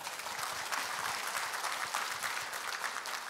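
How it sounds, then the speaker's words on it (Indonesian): An audience at an Indonesian business company presentation claps steadily, a fairly quiet but continuous patter of many hands that holds level for a few seconds without speech. "Tepuk tangan."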